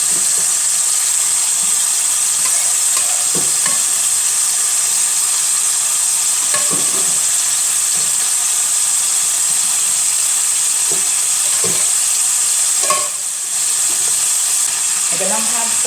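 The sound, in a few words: sauce poured over turkey leg sizzling in a pan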